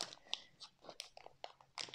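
Faint crinkly rustling and tearing of a plastic bag being opened with a lollipop, in quick irregular bursts, close by and quiet, with small crackles scattered throughout.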